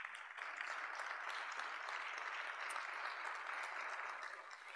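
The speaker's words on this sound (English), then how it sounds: "How about another round of applause?" A church congregation at a Christ the King Sunday heritage worship service breaks into steady, even applause that holds for several seconds at moderate loudness before tapering off slightly.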